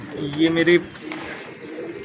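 Black breeder pigeons coo close by in a few short, low bursts, mixed in with someone talking over them.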